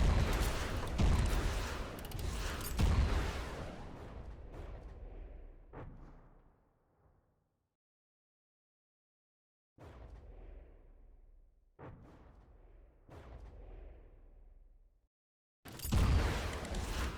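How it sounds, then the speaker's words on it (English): Missiles fired in the video game From The Depths boom in heavy bursts with rumbling decays, several launches and blasts separated by moments of silence, loud and close. "Kill the Vanguard by pressing left control to fire your missiles"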